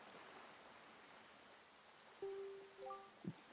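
Steady rain hisses softly over a gloomy, cursed island in The Legend of Zelda: The Wind Waker HD, a faint even wash with a few tonal game chimes near the end.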